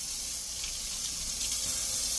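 Water from a kitchen tap runs steadily over an eggplant being rinsed before peeling, a soft continuous hiss close by with no talking.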